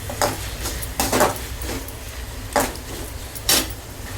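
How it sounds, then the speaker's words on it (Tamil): Shrimp and tomato sautéing together in a pan for a prawn thokku, heard as a soft steady sizzle broken by several louder scraping stirs of a utensil against the pan. "இறா வதங்க வதங்க அந்த தக்காளி அதுலேயே வதங்கிடும்"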